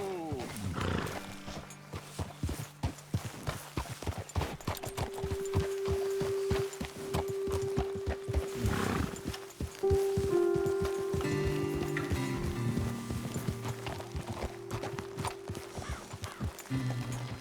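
Horses walking in Red Dead Redemption 2, hooves clip-clopping steadily on the ground at close range, with a sustained musical tone and background ambience running underneath.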